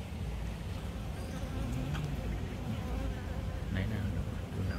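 Honey bees swarming around their hive, a steady close buzzing drone that fills the whole stretch, with people talking faintly underneath.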